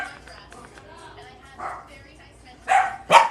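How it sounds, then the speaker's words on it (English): Indoor dogs in a home bark over a quiet stretch, with two sharp, loud barks near the end following softer sounds, and a voice faintly present underneath. "I don't know if these dogs are going to stop. They literally will not stop barking."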